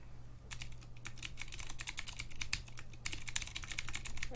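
Fast, steady clacking of keys being typed on a compact Vortex Core mechanical keyboard, close and crisp, with no voices.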